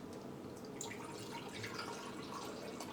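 Bitter orange juice is poured steadily into a blender jar while making cochinita pibil, a continuous close liquid splash and trickle with no talk.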